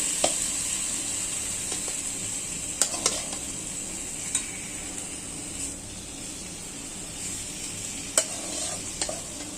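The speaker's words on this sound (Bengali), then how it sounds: "আমার মাছটা ভাজা হয়ে গেছে" Fish frying in a pan on a gas stove, a steady sizzle throughout with occasional sharp clinks of a utensil against the pan.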